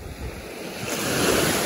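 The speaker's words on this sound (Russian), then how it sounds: "Давайте немножко поближе к морю подойду, вы услышите все сами." Sea waves wash onto the Azov Sea shore at a busy beach in Sedovo, a close, continuous surf roar that swells louder toward the end, mixed with wind buffeting the microphone.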